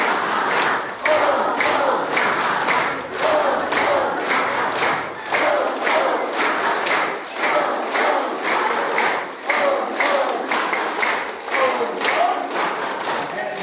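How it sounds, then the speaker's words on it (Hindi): Crowd at a girls' intermediate college in Khatauli clapping hands in rhythmic bursts, loud and close, with voices mixed in throughout. "तीसरी ताली भी बजवा दूं"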